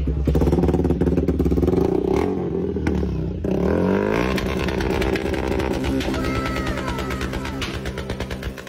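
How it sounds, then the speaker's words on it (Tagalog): A Yamaha Y16ZR motorcycle engine fitted with a Ducati Panigale exhaust revs hard and loud up close, the pitch climbing and falling through repeated throttle blips with a rattly, clattering idle between. "pwede ba natin i-sound check yung motor mo?"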